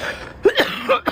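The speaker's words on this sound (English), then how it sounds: "Sorry, you guys, for the cough." A woman gives a short burst of coughs, two or three quick harsh hacks close up in a quiet room, with no other sounds.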